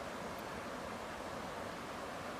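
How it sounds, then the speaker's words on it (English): The powerful Aira Force waterfall gives a continuous, even rush of falling water, heard as a soft distant roar with no voices or other sounds. "as you look into the powerful waterfall, make your wish now"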